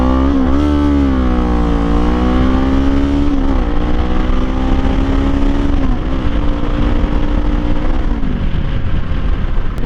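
A Kawasaki Z400 motorcycle with an aftermarket exhaust accelerates hard on a road, its loud, close engine rising in pitch through several gears with brief dips at each shift, steady and unbroken throughout.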